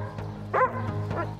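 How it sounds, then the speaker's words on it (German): A dog barking in a short burst of sharp, yappy woofs during a training session, one louder bark standing out among softer ones at close range. "bellt so viel rum, weil er Aufmerksamkeit will"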